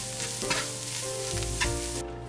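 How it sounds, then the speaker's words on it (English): Vegetables seasoned with salt and plenty of black pepper sizzle steadily in a hot pan while being stirred, a continuous close frying hiss with brief scraping stir accents and no talking. "we're going to stir that up and continue to cook that for another minute or 2"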